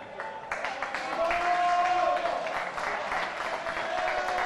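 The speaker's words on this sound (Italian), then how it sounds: "Applausi per Simone Teti" Spectators at an amateur Italian football match in Sanremo applaud a player, scattered clapping swelling after a moment and continuing under a commentator's voice.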